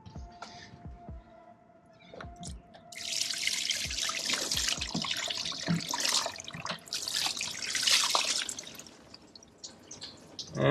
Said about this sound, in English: this is just a solvent-based degreaser, which is pretty safe on paintwork, but I just want it to try and wash away any of the brake fluid